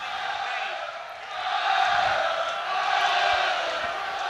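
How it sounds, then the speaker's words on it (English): A rugby crowd roars on Connacht during a Glasgow attack near the try line, a broad, distant rumble of voices that swells louder midway and stays elevated to the end. "And the Connacht crowd roaring their team on here."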